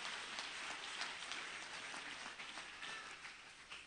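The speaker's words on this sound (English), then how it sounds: "If you are clapping, clap for Jesus." Congregation applauding at an evening session of a church fire conference, a soft, steady patter of many hands heard from a distance and fairly faint throughout.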